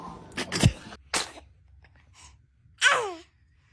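A baby sneezes a few times in quick bursts, sharp and close, with a short breathy gasp before a final louder sneeze and quiet pauses in between.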